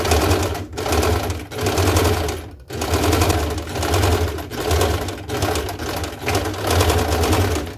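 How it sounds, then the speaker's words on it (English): A sewing machine runs steadily while stitching a French seam about half an inch from the fabric edge, its rapid needle chatter loud and close in several long bursts separated by brief pauses. "we are going to stitch here away from the edge around 1/2 of an inch seam allowance"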